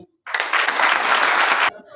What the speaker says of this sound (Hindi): एक ताली होनी चाहिए